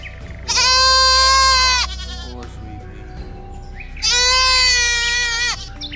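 Two long, loud, quavering bleats from a bighorn sheep, each lasting over a second and spaced about three seconds apart, rise over a steady low background hum.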